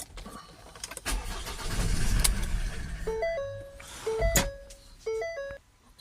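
Ford Transit MK8 2.0 diesel with a badly blocked DPF cranks, catches and runs roughly for a few seconds, a loud uneven rumble, followed by electronic warning chimes repeating over the fading engine.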